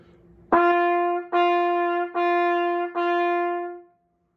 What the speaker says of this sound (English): if I'm going to play something with a really strong tongue and a really strong articulation, I'm going to use a syllable like ta or tu